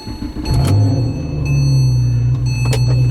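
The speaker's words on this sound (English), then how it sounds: "So you can hear that exhaust is certainly healthy." A 2005 Porsche Carrera S with a six-speed manual rumbles with a deep, loud exhaust note at close range, swelling and holding a steady low drone, with a few clicks and thumps over it.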